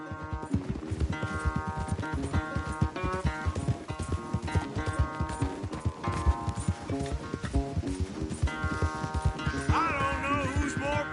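A horse gallops in a race in Red Dead Redemption 2, with steady rapid hoofbeats pounding under a game music score, loud and continuous throughout.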